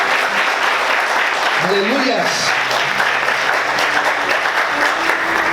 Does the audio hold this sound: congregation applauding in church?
yes